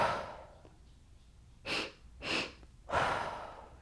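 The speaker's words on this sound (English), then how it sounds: "So this breath is 2 inhales and then an exhale." Breathing alone in a quiet room: two quick, airy inhales in succession, followed by a longer, louder exhale.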